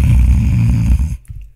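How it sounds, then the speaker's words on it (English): A person snores loudly and close, a deep rattling rumble that stops abruptly near the end, leaving near silence. "Nah, I was snoring."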